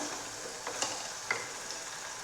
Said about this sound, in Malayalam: അപ്പോൾ അതുവരെ നമുക്കൊന്ന് ഇളക്കി കൊടുക്കാം.